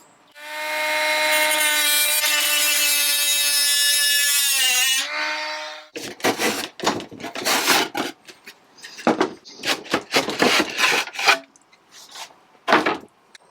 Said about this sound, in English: this is why you need a tiny grinder thingy.